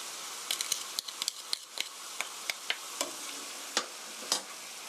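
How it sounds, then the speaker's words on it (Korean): Pork and oyster mushrooms stir-fried in a pan, with a steady, fairly quiet sizzle and many irregular light clinks and scrapes of a utensil against the pan as it is stirred. "살살 저어가면서 5분간 볶아주세요"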